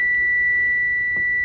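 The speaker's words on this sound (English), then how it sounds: "I didn't turn the timer off" A kitchen timer beeps during applesauce making, a loud continuous high electronic tone ringing steadily without a break for the whole moment, with no talking over it.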